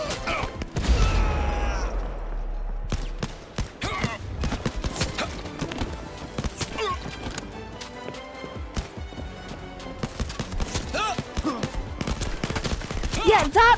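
SMG fire in the Blood and Truth video game: rapid, close bursts of sharp shots clatter irregularly, with brief lulls between volleys and busy action sounds around them.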